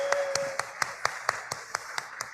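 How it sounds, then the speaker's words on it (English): Sparse clapping from a few people at a startup accelerator demo day, about a dozen distinct claps in a slow, even rhythm, fairly quiet and close. "Big round of applause for them."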